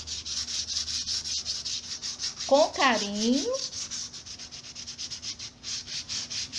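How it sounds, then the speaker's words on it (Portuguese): A craft vase being sanded smooth by hand with sandpaper, working around its rim and contours: a steady, close, rhythmic rubbing hiss that continues throughout, with a brief voice speaking in the middle. "Nós vamos lixar todo o vaso, para que ele fique bem lisinho."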